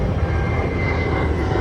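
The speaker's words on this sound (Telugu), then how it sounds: "ఇంకో ఫ్లైట్ వెళ్తుంది." An airplane flies low overhead close to an airport, producing a continuous loud jet roar with a steady whining tone that holds through the short stretch, with no talking.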